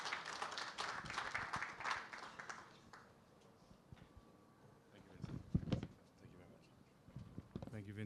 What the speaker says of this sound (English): round of applause as we welcome Mr. Sergio Pimenta to the stage